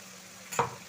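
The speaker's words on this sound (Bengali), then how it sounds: "মশলা আর টমেটো কষাতে কষাতে মশলার মধ্যে দিয়ে দিচ্ছি সামান্য পরিমাণে জল।" Spice masala and tomatoes for chicken bhuna sizzle in a pan as a little water goes in, a quiet steady hiss rising into one sharp, brief burst of spitting near the middle.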